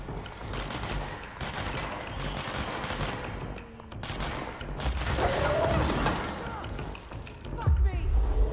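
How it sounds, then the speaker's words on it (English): Gunfire in the video game Control, bursts of rapid shots mixed with mechanical clatter and game effects, steady and loud throughout, with a voice briefly heard. "What are you shooting at?"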